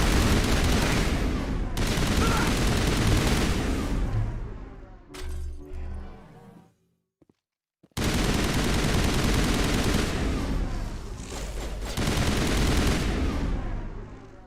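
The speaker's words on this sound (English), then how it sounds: "This is a very accurate assault rifle." An assault rifle in Mass Effect Legendary Edition fires long, sustained bursts of loud rapid gunfire, pausing in the middle with scattered shots and a brief silence before another dense stretch of shooting.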